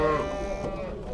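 A cow with her month-old calf at a livestock market gives a short low moo, close by, with faint market noise and voices behind.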